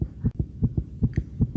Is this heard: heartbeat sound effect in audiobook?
yes